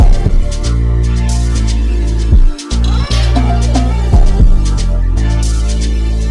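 Dark synth chords sustained inside a trap beat, loud and full with steady low harmonic layers, a brief dropout near the middle before the chords return, no voices.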